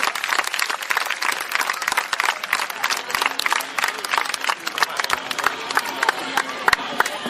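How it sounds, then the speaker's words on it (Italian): Outdoor crowd applauding a Sardinian horse-riding association at a 2009 equestrian event in Oristano, steady dense clapping with sharp individual claps close by and some cheering. "Un applauso all'associazione di Montasarda dal lavoro."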